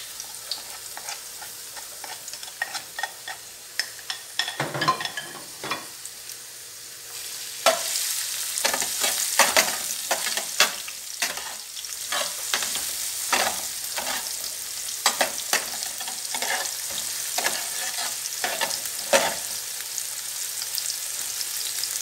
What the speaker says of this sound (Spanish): Comenzamos a sofreír, agregamos el ajo,